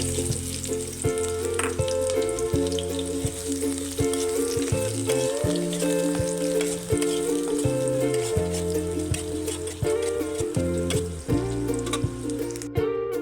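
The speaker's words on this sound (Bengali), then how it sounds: "পেঁয়াজগুলো ভাজা ভাজা হয়ে গেছে" Chopped onions with crushed cardamom and bay leaf fry in hot oil in a pan, a loud continuous sizzle with stirring clatter and a faint tune playing over it.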